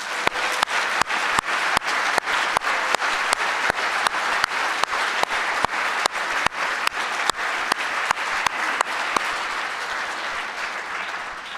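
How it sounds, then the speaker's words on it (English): A commencement audience applauds graduates of an occupational therapy program, a dense, steady wash of clapping sustained for about eleven seconds with sharp individual claps standing out, loud and close throughout. "Let's give them a round of applause."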